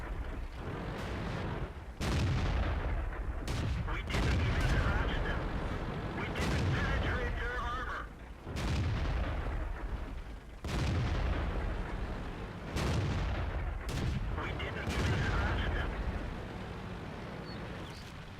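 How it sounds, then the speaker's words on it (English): T-28 tank cannon fire in World of Tanks, heavy booming shots repeating every couple of seconds with rumbling engine and battle noise between them, loud and close. "as soon as I am done loading, I'm taking a shot."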